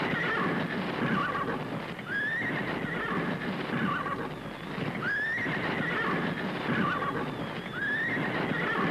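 In a classic Pakistani film scene, a horse whinnies loudly three times at steady intervals over a dense, constant background of clopping and noise.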